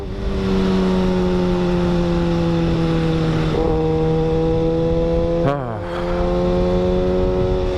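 A 2015 Kawasaki Ninja ZX-6R 636 motorcycle cruises with a steady, loud engine drone heard from the rider's position, briefly dipping as the revs drop before climbing back, with wind rush throughout.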